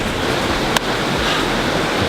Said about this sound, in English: crossing the river like this